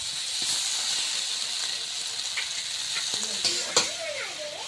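Crab pieces and water lily stems sautéing in a pan, a continuous loud sizzle and hiss with scraping stirs and a few clinks toward the end.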